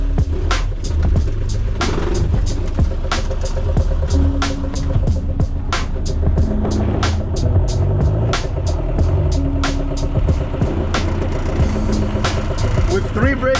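An off-road vehicle drives along with a loud, close engine drone, frequent sharp clacks and thumps from the rough ride, and intermittent tonal whines, while people talk over it.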